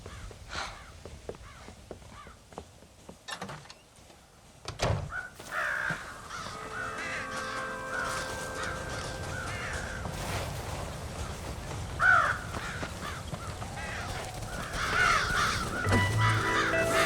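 Crows caw repeatedly in the Red Dead Redemption video game, harsh calls scattered over a low ambient game soundscape, some near and some farther off.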